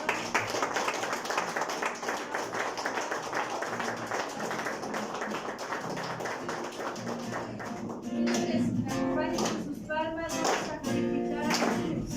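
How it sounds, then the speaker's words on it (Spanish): A congregation claps steadily in rhythm at a marriage dinner worship gathering, with voices singing and speaking over the continuous beat. "Dale un fuerte aplauso al Señor"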